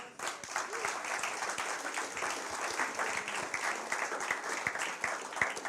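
A church congregation claps steadily through a sermon break, dense even applause filling the room at moderate level, with some voices murmuring underneath.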